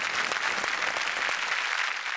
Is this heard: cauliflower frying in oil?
no